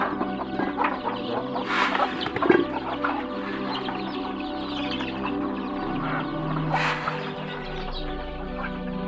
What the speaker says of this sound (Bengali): আমার মুরগিগুলো কিন্তু খাওয়ার জন্য ঘোরাঘুরি করতে আছে